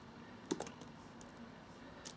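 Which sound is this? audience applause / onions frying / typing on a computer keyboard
typing on a computer keyboard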